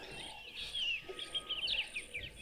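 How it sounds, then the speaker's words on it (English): Repeated harsh calls of Natal spurfowl ring out at moderate distance over a soft outdoor background with faint insects. "A number of the Natal spurfowl that are also calling."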